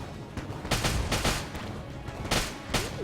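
Rapid gunfire from the video game Enter the Gungeon, a dense burst of overlapping shots and booming impacts over about three seconds, loud and continuous with no talking.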